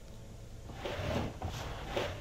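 A wooden drawer slides open in the adventure game D, a short scraping rumble that swells after a quiet start and runs for about a second and a half, close and moderately loud over a low ambient hum.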